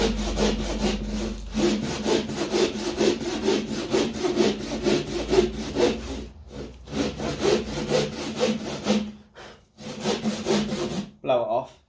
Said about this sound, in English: We have a normal wood saw.